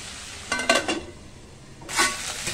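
Food frying in a pan, with two bursts of crackling sizzle and stirring, one early and a louder one near the end, over a quiet bed of frying.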